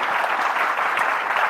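A conference audience at a food-industry event gives a round of applause, a steady, even roar of many hands clapping at moderate loudness, with no speech over it.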